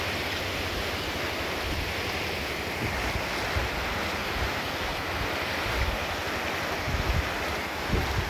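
A village river in the Samosir valley rushes past in a dense, broad, steady roar, loud and close with some wind buffeting, and no voices over it.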